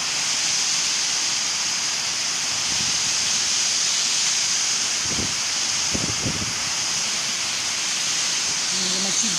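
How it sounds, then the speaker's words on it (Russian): Torrential rain pours onto a flooded street of Golubitskaya amid strong whistling wind, a dense continuous roar of water and rushing air with a few brief thumps. "Такого дождя я никогда не видела. Таким ветром, такой силой,"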